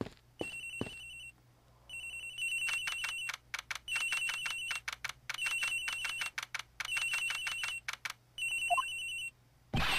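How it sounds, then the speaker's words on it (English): Telephone ringing in the Ace Attorney Investigations video game: a bright electronic ring repeating in steady bursts, with clicking text sounds between rings. "The ringing's coming from somewhere in here, sir."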